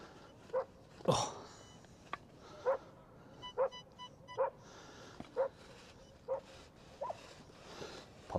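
Dogs bark steadily in the distance beside a Devon beach, roughly ten short, faint barks at regular intervals, with one louder broadband burst close by early on.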